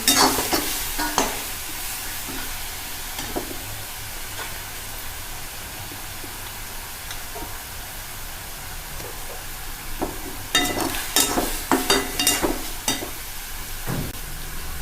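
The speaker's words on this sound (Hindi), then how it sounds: "चटनी फ्राई होना शुरू हो रही है। अब हमें इसे हिलाते रहना है" Bombil dry fish green chilli chutney fries on a full flame with a constant close sizzle, while a spoon scrapes and stirs through it in repeated bursts, busiest toward the end.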